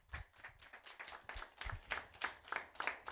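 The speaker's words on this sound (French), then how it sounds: "On applaudit bien fort la Mathilde." An audience applauds the act La Mathilde, a quiet, fairly even stream of claps with a loose rhythm, somewhat distant and alone without talk.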